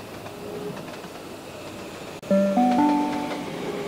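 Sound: train arriving at Blacktown platform 7, from video game Trainz 12

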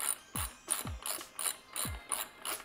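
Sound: ratchet tightening bottom bracket cup with M30 tool

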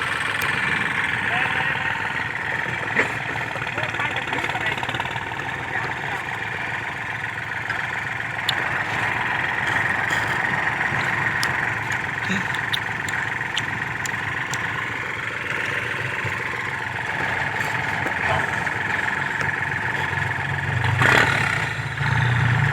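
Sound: turbo tractor engine running

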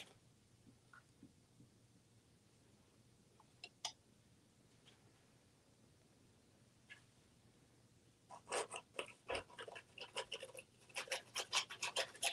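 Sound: rubbing pink paint over turquoise on canvas

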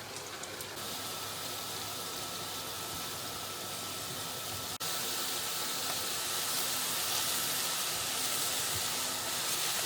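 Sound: mushrooms frying in a dry pan without oil

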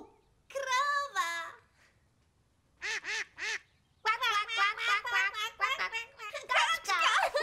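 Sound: duck quacking

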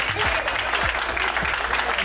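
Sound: office staff clapping

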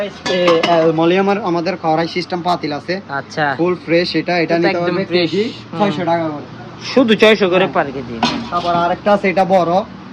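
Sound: Turkish-made kitchen pots and pans being handled

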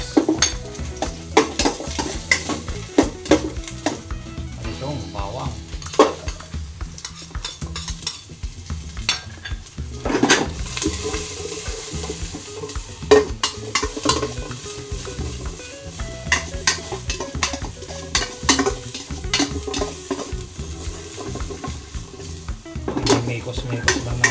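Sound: ginger and onion frying in a pan

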